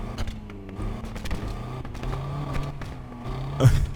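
A car engine in the video game Need for Speed Unbound, a four-cylinder in a widebody Mazda RX-7, hums and revs steadily at close range, pitch rising and dipping, with a sharper burst near the end.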